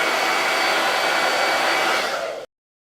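A hair dryer blows steadily on a Chalk Couture transfer, a loud, continuous close-up whoosh that runs for over two seconds and then cuts off abruptly into silence.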